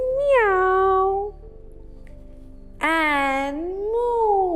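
A human voice imitates a cat meowing during a kids' yoga routine, giving two long, drawn-out, loud meows close to the listener, separated by a short quiet gap.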